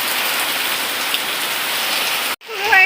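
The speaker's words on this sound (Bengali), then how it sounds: "দেখো দেখো বৃষ্টি পড়ছে, ফুটফুট করে সকাল সকাল বৃষ্টি" Morning rain falling outdoors, a dense steady patter of drops on surfaces, loud and close, cutting off abruptly near the end to a quieter scene with faint tonal sounds.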